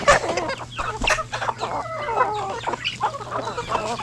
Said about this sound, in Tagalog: May mga sisiw pa tayo parating doon.